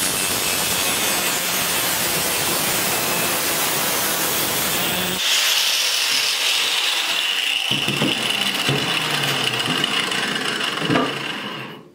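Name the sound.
4-inch angle grinder cutting black stove pipe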